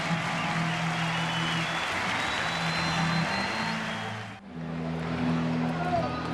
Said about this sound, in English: He'll get a nice hand from the Mets crowd as he leaves.